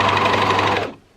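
Short burst of a sewing machine stitching a stretch neckband onto a dress, close and fairly loud, running for about a second before fading out.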